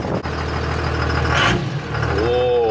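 A twin-turbo Cummins diesel truck engine, recently rebuilt after being blown up, runs steadily and loudly with a deep, continuous rumble heard from close by, as if from inside the cab.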